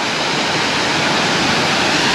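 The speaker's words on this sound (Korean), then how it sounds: "이 폭포 멋있죠?" Roaring water cascades down the Nojeokbong waterfall in Ansan, Gyeonggi-do, a loud, steady, dense rush with no pauses and no voices.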